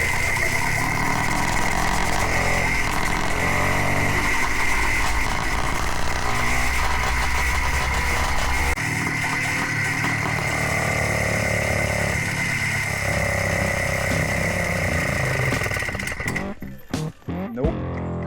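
A 2-stroke electric hybrid motorcycle engine runs steadily under throttle, a loud, continuous buzzing drone that holds for most of the stretch before breaking into a few sputtering bursts near the end.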